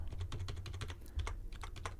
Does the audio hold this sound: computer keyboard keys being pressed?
yes